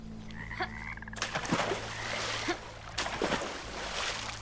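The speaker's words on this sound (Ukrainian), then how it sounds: "Це ж велика жаба, це було понятно." Frog croaking in the video game Bramble: The Mountain King, a short rattling croak early on followed by watery splashes and trickles from a pond with lily pads, faint ambience with no talk.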